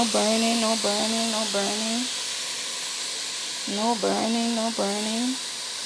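Steady sizzling hiss of vegetables, including sweet pepper, stir frying in a hot pan, with a voice speaking over it in two stretches.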